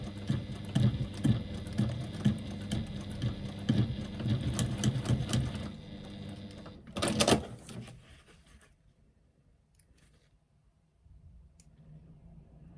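A sewing machine runs in quick bursts, stitching a strap onto a woven bag, with brief stops and a final clatter before it falls quiet.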